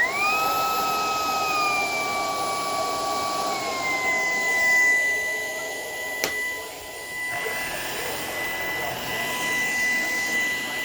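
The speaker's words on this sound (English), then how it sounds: "I'm going to vacuum with the Shark" A Shark Power Detect vacuum cleaner runs in eco mode indoors, a loud steady whine with a high tonal hum that shifts pitch and softens partway through, with one brief click, no talking.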